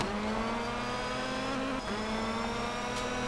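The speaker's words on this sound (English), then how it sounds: "A lot of the sound you can actually hear is actually the gearbox." Rally car engine and gearbox whine in the PS1 racing game Colin McRae Rally 2.0, a steady sustained drone with a brief dip as the pitch shifts, constant and moderately quiet.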